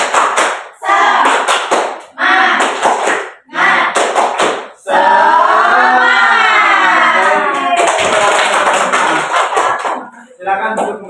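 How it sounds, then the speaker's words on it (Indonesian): A primary-school class claps in loud rhythmic bursts with short pauses between them, while children chant along and a sustained group shout rises in the middle. "Kita tepuk semangat lagi ya"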